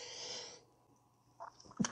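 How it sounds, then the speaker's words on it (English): A single sharp sneeze bursts out near the end, preceded by a quick inhale and a brief breathy hiss at the start, with quiet in between. "I'm going to sneeze."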